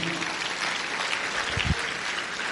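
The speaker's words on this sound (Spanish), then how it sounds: "Puedes darle un fuerte aplauso al Señor" Applause from a church congregation fills the space steadily, a dense wash of clapping heard at moderate distance with no voices over it.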